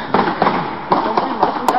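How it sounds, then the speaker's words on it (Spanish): A rapid series of sharp .22-calibre handgun shots, around six in under two seconds, sounding somewhat distant and echoing. "Y ahora se escuchan disparos de armas cortas."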